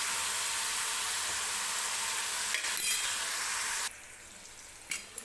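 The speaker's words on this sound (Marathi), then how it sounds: "1-2 मिनिटे मी टोमॅटो जो आहे तो असाच तेलामध्ये शिजवून घेणार आहे सुरुवातीला." Tomatoes fry in oil with a steady, close sizzle, broken by brief scraping stirs and light clinks, the sizzle dropping quieter for the final seconds.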